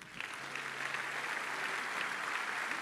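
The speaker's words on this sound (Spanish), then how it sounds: "Dale un aplauso a Dios." Congregation applauding during a church sermon, a steady, fairly distant wash of clapping from a large crowd, continuous throughout with a low hum beneath.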